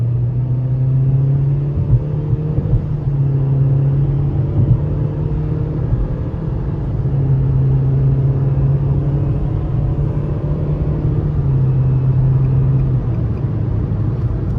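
A 2023 Nissan Versa S with a non-turbo 1.6-liter four-cylinder and CVT, accelerating in sport mode, heard as a steady droning engine hum with road rumble filling the cabin, loud and continuous, with no talking.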